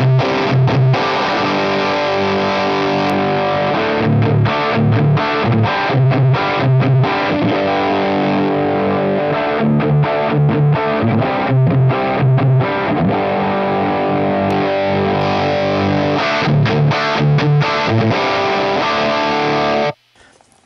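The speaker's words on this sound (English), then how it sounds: "you're probably going to hear even more of these kind of fizzy elements" High-gain distorted electric guitar played through a Line 6 Helix modeler emulating a Litigator-style amp, loud and continuous with fizzy upper edges, chugging palm-muted rhythms and sustained chords until an abrupt stop near the end.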